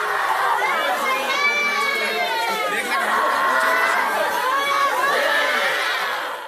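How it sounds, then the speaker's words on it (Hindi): Villagers in a mourning village wail and cry out after deaths from liquor. Many overlapping voices rise and fall in long, strained cries, loud and continuous across the whole stretch. "तमाम घरों से रोने धोने और चीख पुकार की आवाजें आ रही हैं"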